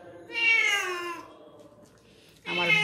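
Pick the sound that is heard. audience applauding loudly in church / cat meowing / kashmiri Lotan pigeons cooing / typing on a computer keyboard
cat meowing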